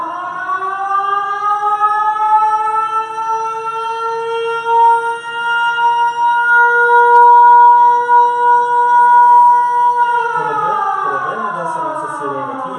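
A loud stadium-style siren played live on a football show, a sustained wailing tone that holds for about ten seconds before winding down, with a faint voice underneath near the end.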